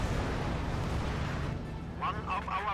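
A StuG tank is destroyed in the Company of Heroes video game, a loud rumbling explosion that dies away, followed by a brief burst of voice-like game audio.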